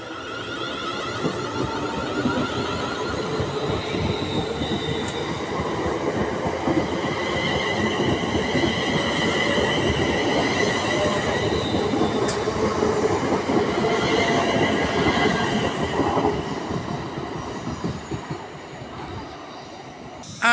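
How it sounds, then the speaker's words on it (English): Stone-bound passenger train pulling out of Stafford station on the Potteries Line, a steady loud rumble of wheels and carriages rolling past, with faint squeals and rail clatter building then easing as it departs. "that's the Stone train that I would have gotten on"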